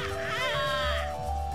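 A sheep in the Katamari Damacy video game gives a single wavering bleat, loud and close, over steady background game music.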